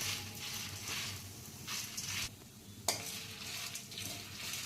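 Red chillies, coriander seeds and cumin dry-roast in a pan with soft crackling and rhythmic stirring scrapes, plus one sharp utensil clink partway through. No one speaks.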